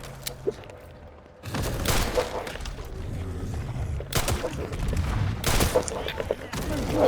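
Rapid gunfire from a gun in the survival horror game Resident Evil Requiem, several loud bursts of shots spread across the stretch with rumbling game ambience between volleys.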